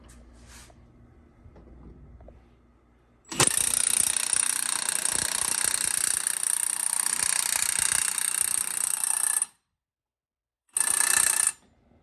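A Milwaukee power tool tightens a lug extension to pull a wheel stud through a Dana 60 front hub. It makes a loud, close, rattling mechanical whir that runs steadily for about six seconds, then a short second burst after a pause.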